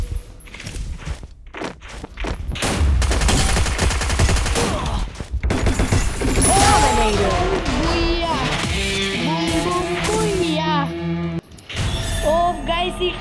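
Rapid bursts of plasma gun fire in a video game match, dense and loud throughout, mixed with other game effects and music-like tones.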